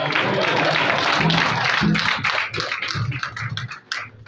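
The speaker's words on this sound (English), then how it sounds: "I deserve a round of applause." A round of applause from the audience at the official launch of a breast cancer awareness project, dense, steady clapping that fills the room throughout and fades slightly near the end, with a voice talking over it.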